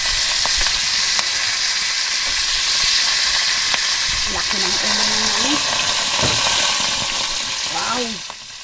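Loud, steady frying hiss of grouper frying in a pan fills the clip, with a few brief voice-like sounds and a clink faintly over the sizzle.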